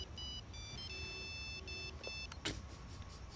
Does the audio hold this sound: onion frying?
no